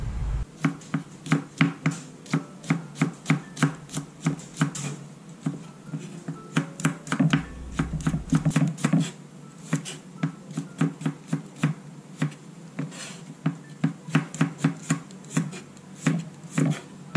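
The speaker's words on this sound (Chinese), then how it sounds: "蒜末呢，不需要切到太过太过碎" A knife chops peeled garlic on a cutting board for home-style egg fried rice, with steady, rapid, close knocks that briefly pause and then carry on at an even pace.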